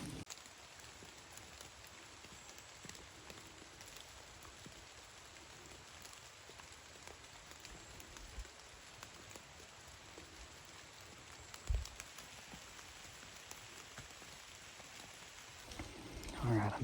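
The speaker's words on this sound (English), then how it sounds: "it's raining hard" Hard rain falls steadily on Pennsylvania woods as a faint, continuous patter of drops, with a few brief knocks and rustles near the end.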